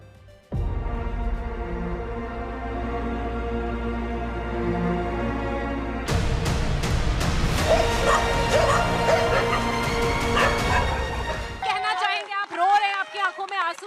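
Stray dogs bark, yip and whimper on a street, with a continuous rumble underneath. Louder yelps cluster near the end, and people talk throughout.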